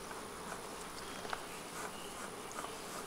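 Angry honeybees swarm around an opened nuc hive, a dense, continuous buzzing from many bees close by with a few louder passes near the listener, and no talking.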